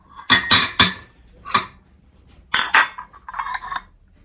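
Thrifted ceramic soup bowls and small matching dishes handled and set together, giving a series of sharp clinks in quick clusters, close and alone.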